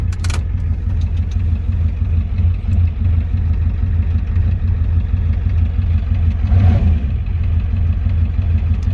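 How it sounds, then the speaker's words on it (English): A 7.3 IDI diesel engine in a 1990 Ford F-250 pickup idles roughly and loudly up close, a steady uneven chugging throb that swells briefly near the end. "It's got a rough idle, but it seems like it revs up a little better."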